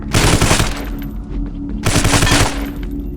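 A TNT crate explodes in the video game Vivisector: Beast Within: two loud, crackling blasts about two seconds apart, each a burst of rattling noise that fades into a low rumble.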